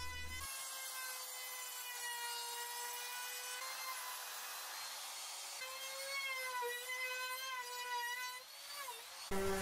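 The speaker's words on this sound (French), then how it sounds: "j'arrondis tous les bords avec une affleureuse" Trimmer router rounding the edges of wooden boards, a continuous high whine with a shifting pitch as the bit cuts, running steadily throughout at a moderate distance.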